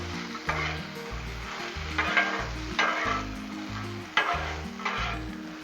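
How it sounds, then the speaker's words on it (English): Potatoes fry on a Blackstone griddle as a spatula scrapes and turns them in a few rhythmic strokes over a steady, close sizzle, with no talking. "Let's stir these taters up again. Oh yeah, getting a good crisp to them now."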